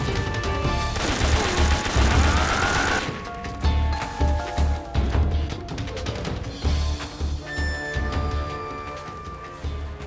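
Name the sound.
gunfire in a PS2 stealth action video game demo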